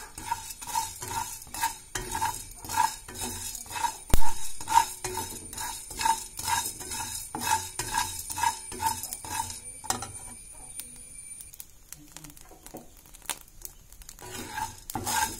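Coriander seeds roast in a pan while being stirred, producing a fast, regular series of scraping, clinking strokes for about ten seconds before the stirring fades into faint crackle and quiet.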